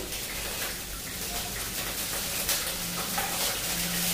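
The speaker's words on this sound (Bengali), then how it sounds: "জিরা তেজপাতা ফোড়ন দেই" Cumin seeds and bay leaves tempered in hot oil, a dense continuous sizzle and crackle filling the whole moment at close range, steady and fairly loud with light stirring underneath.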